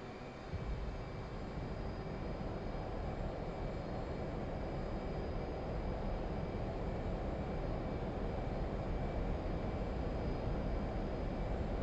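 An F/A-18C Hornet jet roars steadily through its takeoff in DCS World, a loud continuous broadband engine rush with a faint whine on top, holding level throughout with no voices.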